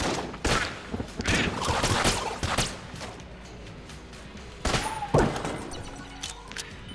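Bouncing projectile gunfire in the roguelike shooter game Enter the Gungeon, a rapid irregular burst of punchy shots and thuds that swell and fade across several seconds, loud and close, with no talk.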